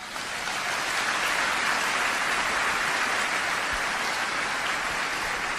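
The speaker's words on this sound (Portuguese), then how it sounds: "Você dá um aplauso aí para essa turma aí" Loud, dense applause from a church congregation during a worship service, a continuous wash of clapping from many hands that holds steady throughout with no talking.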